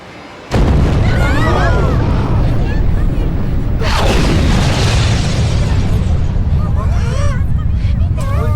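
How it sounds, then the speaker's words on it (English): Explosions from bombing the Millennium Tower in the video game Yakuza 4, a sudden loud boom followed by a second blast and rumbling, with crowd-like babble and screaming mixed in. "Bombing the Millennium Tower for the 100th time now."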